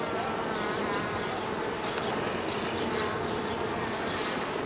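Honey bees swarm around an open hive during a honey super addition, a dense continuous buzzing that stays close and steady throughout with no voices.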